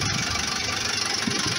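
A Massey Ferguson 440 farm tractor with a non-turbo engine runs steadily nearby, a continuous loud mechanical drone with faint knocking through the short stretch, no talk over it.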